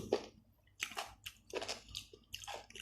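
Someone chews a crunchy, springy Thai spicy jellyfish salad made with Andaman Sea jellyfish, giving quiet, close, rhythmic bites with wet crunching and squishing.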